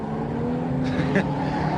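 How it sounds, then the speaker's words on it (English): HQ Holden race cars at Pukekohe, their engines droning in a steady, loud roar with a brief rise as cars pass, heard beneath commentary. "So it's all on in the HQ Holdens, turning it on for the crowd today at Pukekohe."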